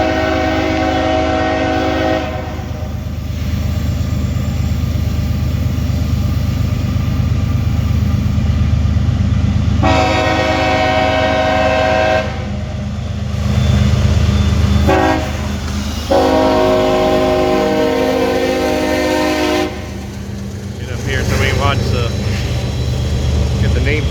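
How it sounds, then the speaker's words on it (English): A CSX eastbound maintenance-of-way train carrying old C&O cars rolls past with a steady loud rumble, its horn blasting in several long sustained blows over the passing cars. "We got a eastbound maintenance away train."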